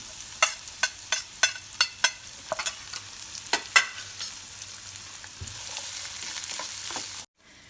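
Chopped carrot and cabbage sizzle in a pan over low heat while a utensil scrapes and stirs them in a run of sharp, regular strokes, then the sizzling carries on alone before cutting off.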